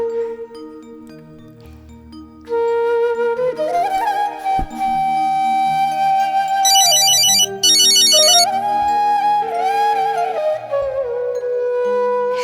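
A mobile phone ringtone plays while a call is placed, a loud, clear electronic melody with repeating tonal phrases and bright trilled bursts in the middle, no voices.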